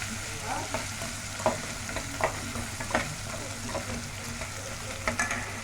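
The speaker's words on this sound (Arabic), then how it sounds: "قلبي فيه كده لغايه لما تشوحيه حبه حلوين" Rice for Egyptian koshari is sautéed in a pot, with a spoon scraping and knocking in an irregular rhythm over a constant close sizzle.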